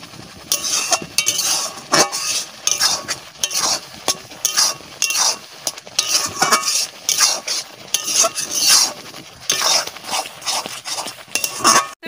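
Ripe mango pulp cooking down in a pan for mango leather, stirred constantly, giving loud rhythmic scraping and clinking strokes of a spoon against the pan over a low sizzle.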